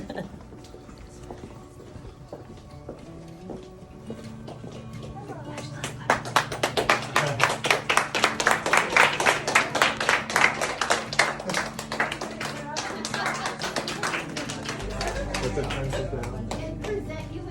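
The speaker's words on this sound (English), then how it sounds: "Start clapping." A group bursts into sustained clapping mixed with cheers and chatter as they surprise an adjunct faculty member with a spotlight award, the applause swelling loud after a quieter start with voices underneath.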